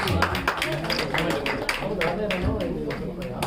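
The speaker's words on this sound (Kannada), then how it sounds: "ಅವರಿಗೆ ಜೋರಾಗಿ ಚಪ್ಪಾಳೆ ತಟ್ಟೋದ್ರ ಮೂಲಕ ಅಭಿನಂದನೆಗಳನ್ನ ಸಲ್ಲಿಸೋಣ" An audience at a world record awards ceremony claps steadily in sustained, close applause, with a voice speaking over it.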